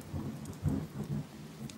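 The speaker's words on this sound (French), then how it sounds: "J'ai l'impression qu'il se prépare un bel orage." Thunderstorm with steady rain, low rumbling swells of thunder rolling under a continuous wash of rainfall, moderately quiet and without voices.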